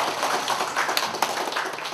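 A studio audience breaks into steady, dense applause to celebrate the 5,000th broadcast of the KBS radio show FM대행진, a continuous patter of many hands with a few sharper claps standing out.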